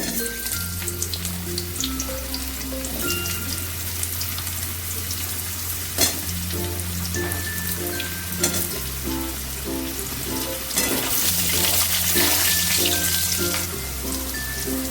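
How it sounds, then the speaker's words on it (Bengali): Potato pieces frying in hot oil, a continuous close sizzle with occasional stirring and soft spatters; faint music plays underneath, no talking. "এবার আমি প্রথমে আলুগুলোকে ভেজে নেব"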